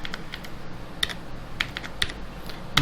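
Code being typed on a computer keyboard for an Android app's Firebase database connection, a steady run of close, quiet key clicks with a few sharper strokes over low room hum.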